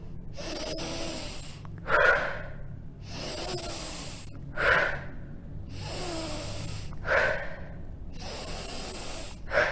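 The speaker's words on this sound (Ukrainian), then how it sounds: "Тягніть повітря з жадібністю." A person draws deep, greedy breaths during a guided breathing exercise, four sharp inhalations spaced a couple of seconds apart, each with a snorting gasp, close and clear over a faint hiss with no talking.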